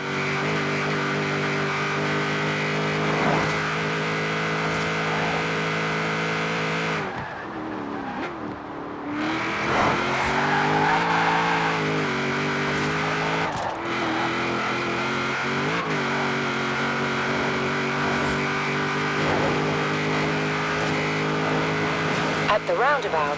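A car engine in Forza Horizon 4 drones and revs continuously up close, with a brief dip and rising throttle, tire noise and road rumble underneath.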